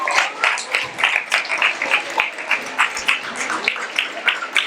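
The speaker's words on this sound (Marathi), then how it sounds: "जोरदार टाळ्या एकदम" An audience claps for a child placed third at a prize distribution ceremony for a monologue competition in Pune, producing brisk, fairly even bursts of applause at moderate distance, with voices mixed in.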